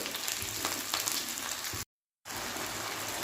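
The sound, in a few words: frying chopped tomato and chili with onion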